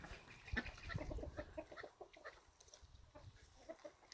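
Chickens cluck and call in a backyard flock, with scattered soft clucks and a couple of sharper calls close by, fairly quiet and with no talking.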